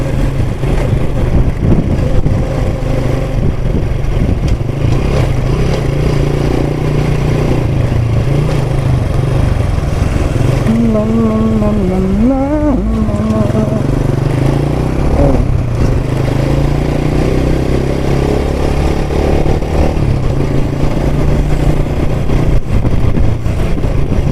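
A loud, steady engine drone runs throughout with rumbling low tones and a brief rising whine near the middle, close and continuous.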